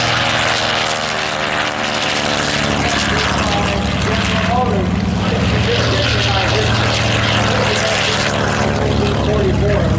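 A propeller aircraft roars loud and steady throughout its takeoff, a dense droning engine sound with no pauses.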